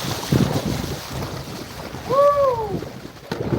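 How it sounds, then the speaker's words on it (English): Wind buffets the microphone with a low, gusty rumble throughout beside a creek at Yahoola Creek Park, Dahlonega, Georgia, and a brief rising-falling tonal whine cuts through midway. "Oh, it's getting windy though."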